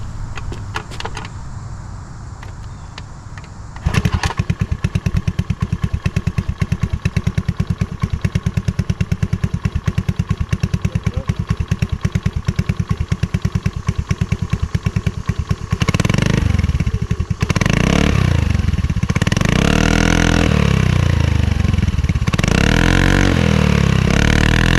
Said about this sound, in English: we're going to fire it up with the silencer in